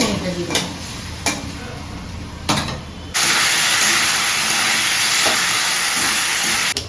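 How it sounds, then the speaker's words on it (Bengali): Potato curry stirred in a cooking pot, with a few spoon knocks against the pot, then a loud steady hiss of steam and sizzling that takes over abruptly and continues. "এরপর একটু নাড়াচাড়া করি একটু কষা মতো হবে"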